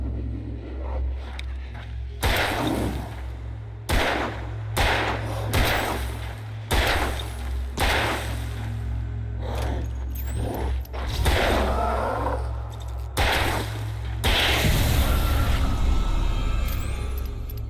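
Gunfire in the Alan Wake video game: a series of loud, sharp shots at irregular intervals over a steady low hum, with no talking.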